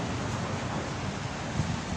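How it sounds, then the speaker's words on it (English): Wind buffets the microphone outdoors on a mountain in a steady, loud, broadband rumble with no voices. "Oh, I welcome the wind."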